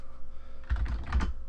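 Quick burst of keystrokes on a computer keyboard while entering a move command at the Windows Command Prompt, a short clatter of several close taps following a quiet pause.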